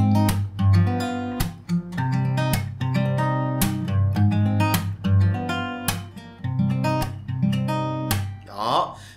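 Acoustic guitar strummed in a steady, repeating rhythm, with sharp percussive down-strokes cutting through sustained chords, close and fairly loud.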